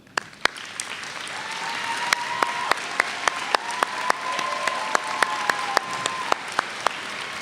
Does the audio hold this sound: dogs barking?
no